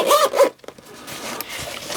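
Two quick zipper pulls open or close the enclosure of a Lochby A6 Field Folio, close and crisp, followed by quieter rustling of the case.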